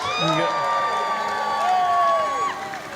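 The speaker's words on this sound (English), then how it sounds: "Let's have a big cheer for the Cub Scouts" A parade crowd cheers for the Cub Scouts on Main Street during Santa Monica's 4th of July parade, a steady wash of voices and whoops with a high whistle-like tone running through it.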